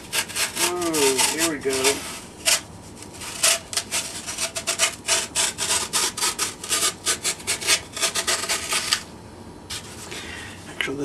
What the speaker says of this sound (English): All I could just do is force the hacksaw blade down into it, and works fine.